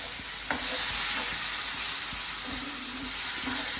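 Curd stirred into frying chicken 65 in hot oil, a steady loud sizzle and hiss with soft scraping stir sounds throughout.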